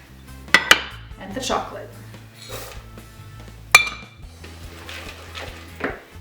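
Nuts and chocolate tipped into banana bread batter in a bowl, with several sharp clinks and clatters of utensils against the dish and softer scraping between, while a voice briefly speaks.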